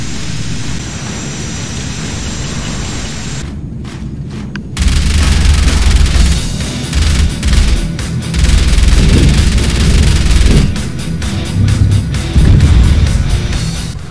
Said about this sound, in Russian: Истребитель